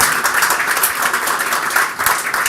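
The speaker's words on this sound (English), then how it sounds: "I'll take that as a rapturous round of applause" Steady round of audience applause from a crowd at a political conversation event, dense and continuous for the whole stretch with no pause.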